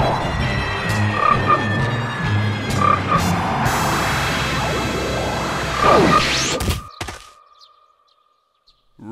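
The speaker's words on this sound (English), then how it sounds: "Ribbit. Ribbit. Croak." A cartoon frog croaks in the DragonBall Z Abridged parody, with a couple of croaks over a busy background of crashes and whooshes before it drops to near silence.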